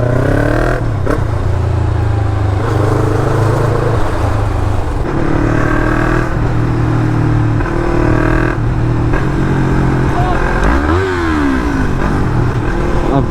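A Yamaha MT-03 with an Akrapovic exhaust roars continuously up close, its pitch rising and falling as it shifts and revs while riding; no talking.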